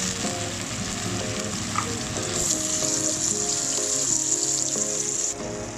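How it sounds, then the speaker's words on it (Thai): Hong Kong kale with oyster sauce stir-frying in a pan, a loud continuous sizzle close up with stirring throughout, plus a faint musical tone in the background. "ทำการวน ให้ทั่วนะครับให้เข้ากันนะครับ"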